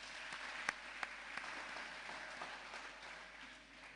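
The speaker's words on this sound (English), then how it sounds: "Can we please give them a round of applause?" Faint, distant applause at a students' association gathering honoring a newly formed welfare committee, a soft steady patter of clapping with a couple of louder single claps near the start.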